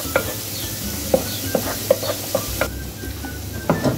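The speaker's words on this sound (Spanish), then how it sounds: "Vamos a esperar ahora por un par de minutos más para que el ajo se integre con la cebolla y se fría" Garlic and onion frying in a pan for soup, a steady sizzle broken by several sharp scrapes and clacks of a stirring utensil, close and moderately loud with no talking.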